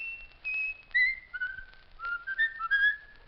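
A man whistles a tune in a series of clear, sliding, melodic notes, close and unaccompanied, with no talking over it.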